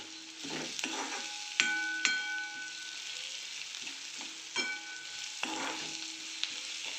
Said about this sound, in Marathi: आणि आता आपला कांदा व्यवस्थित भाजला गेलेला आहे